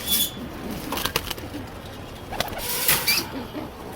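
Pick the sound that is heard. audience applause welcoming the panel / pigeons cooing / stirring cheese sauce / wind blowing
pigeons cooing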